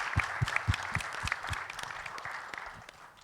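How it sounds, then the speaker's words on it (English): Audience applause at the concluding session of an IPTA barrier-coating workshop, a burst of distinct claps at first that thickens into a steady wash, then gradually fades. "big round of applause also to them."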